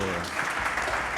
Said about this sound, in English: Can I please get a warm round of applause for Ash Thorpe